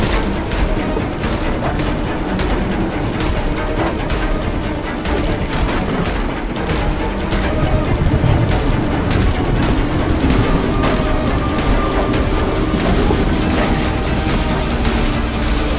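Gunfire from the player's train in Choo Choo Charles cracks out in a rapid, regular string of loud, close shots over a constant mechanical rumble, without a break and with no talking.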